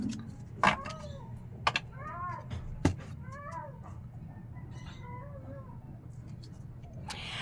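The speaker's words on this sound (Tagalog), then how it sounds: "Yan ang pusa." A cat meows repeatedly in short, rising-and-falling calls, close by, with a few sharp taps and clicks in between.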